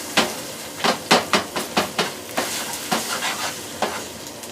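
Scrambled eggs cook on a camp stove, with a spatula scraping and stirring in roughly a dozen sharp, evenly spaced strokes over a steady sizzle, close and without speech.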